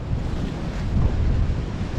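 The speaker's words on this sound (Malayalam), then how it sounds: "തിരമാലയൊക്കെ അടിച്ച് കയറി വരികയാണ്." Waves crashing and surging up onto the shore near Kozhikode on the Kerala coast, a loud continuous roar with heavy wind buffeting the microphone and no voices.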